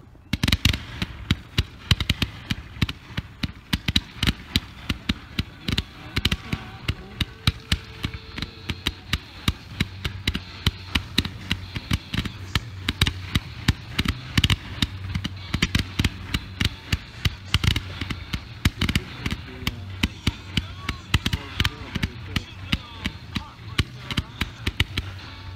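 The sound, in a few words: 130 shot Z gold glitter comet firework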